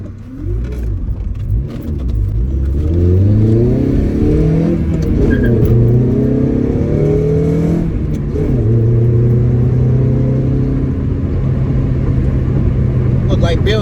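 Honda K24-swapped Acura RSX engine climbing through the revs, a loud droning engine note rising and falling with gear changes, heard from inside the car with a voice talking over it.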